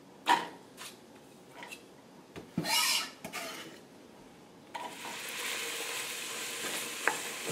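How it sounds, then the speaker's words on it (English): Onions sweating in butter or margarine in a pan for wild mushroom soup, with scattered scraping stirs at first, then a steady soft sizzle that rises and holds, close and quiet, no talking. "Now we'll sweat those onions a little bit"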